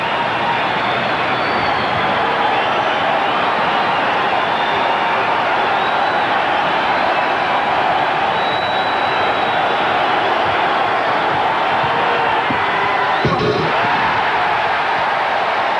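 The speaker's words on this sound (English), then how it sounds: "Well, the crowd lets you know what they think of it." A packed arena crowd at the 1988 NBA Slam Dunk Competition roars continuously after a Michael Jordan dunk, a loud, dense, sustained wall of cheering and yelling with no break.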